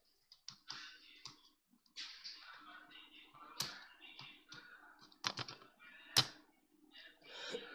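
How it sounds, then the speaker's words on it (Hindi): An account number typed on a computer keyboard: close, irregular key clicks and taps with a few sharper louder strokes, in quiet surroundings. "यहाँ पे हम एक बॉक्स में अकाउंट नंबर हमको टाइप करना है"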